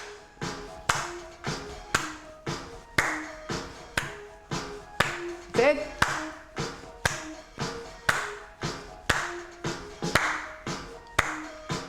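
Hand clapping during a seated chair exercise session, steady single claps repeating in an even rhythm roughly twice per second over backing music, with a brief spoken remark partway through.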